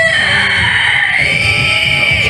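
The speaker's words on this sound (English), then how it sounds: "and you hear this high-pitched screeching." A loud, sustained, high-pitched screech from a tabletop fantasy role-playing game, a continuous piercing wail that holds steady and then bends slightly in pitch, alone and close.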